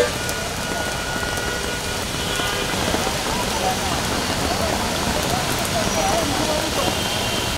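Heavy rain falls in Dhaka during a low-pressure system, a loud, steady, close wash of drops hitting surfaces without a break, with indistinct voices faintly mixed in.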